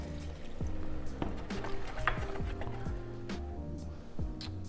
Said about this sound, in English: So now just going to add a splash of water.